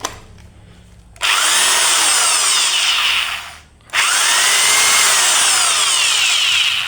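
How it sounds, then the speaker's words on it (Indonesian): An electric drill, plugged into a newly added power outlet, whirs loudly at high speed in two long runs, winding down briefly between them before spinning up again, close and steady. "Sekarang untuk tes mesin bor"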